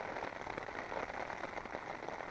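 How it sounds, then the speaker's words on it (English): Rain pattering steadily on a winter camp on snowy Ireby Fell, a dense close drumming of drops with even texture throughout and no talking. "they're going to have to dump the rain before they go over Ingleborough, and they're dumping it right on top of me at the moment"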